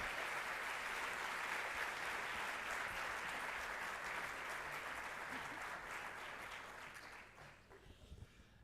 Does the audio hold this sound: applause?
yes